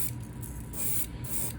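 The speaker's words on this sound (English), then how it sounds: "So just spraying it to make sure it's nice and coated" Spray paint hisses onto a 1.5 crankbait lure as a fire tiger base coat goes on, two short close bursts separated by a brief pause, with no talking.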